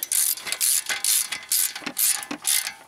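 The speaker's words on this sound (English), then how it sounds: "Switching back and forth and just using the sockets to draw it in." A socket wrench ratchets in quick repeated bursts of clicking while drawing a bearing in during brake pad and rotor work, close and fairly loud, with short pauses between strokes.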